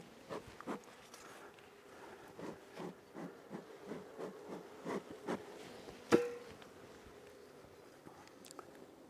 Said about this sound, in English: It's just a beautiful frame of bees.